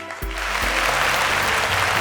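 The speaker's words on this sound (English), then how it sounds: "Can you give them a round of applause?" A studio audience at a televised competition show breaks into applause after a strong score, a dense burst of clapping rising quickly over low musical tones and continuing steadily.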